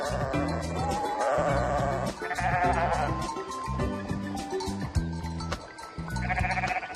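A flock of sheep bleats at a lavogne watering hole in the village of La Couvertoirade, with many overlapping close and distant bleats that continue throughout.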